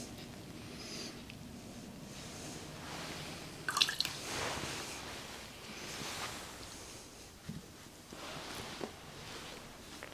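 Small drips of water fall into a glass of whisky at a tasting, faint and close, with soft wet splashes over quiet background hiss.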